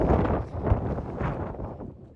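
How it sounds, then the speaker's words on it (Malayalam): Strong gusting wind on a hilltop near the summit of Madhugiri, roaring and buffeting the microphone in a broad, continuous rush that swells and eases without a break. "ഭയങ്കര കാറ്റാണ്, കേൾക്കുന്നുണ്ടോ അറിയില്ല"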